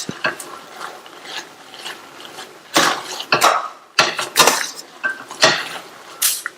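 A utensil mashes soft-cooked rice and lentils for pongal in a pot, giving irregular bursts of scraping and clattering against the metal, some louder than others, with short pauses between. No one speaks.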